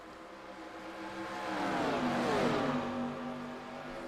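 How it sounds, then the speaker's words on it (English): A pack of race cars at Talladega in iRacing roars past, engines swelling to a broad peak and then fading, a sustained droning pass with no voices. "Big pack of cars coming out of the track now."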